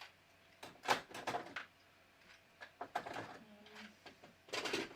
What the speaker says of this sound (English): I'm going to look in my little accessory tray here and see if I have that foot